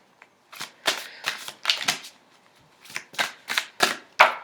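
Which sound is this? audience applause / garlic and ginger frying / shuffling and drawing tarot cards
shuffling and drawing tarot cards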